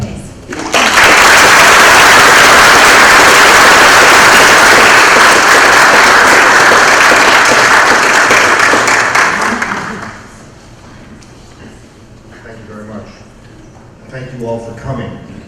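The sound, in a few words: audience applause welcoming a lecturer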